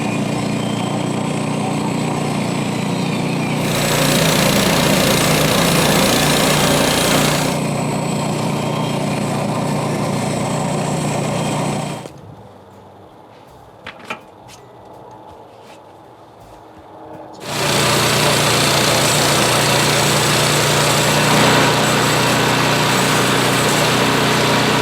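The engine on a homemade Frontier OS18 sawmill drones loudly and steadily, changes tone as it comes under load, drops to near quiet for several seconds, then roars back to full speed.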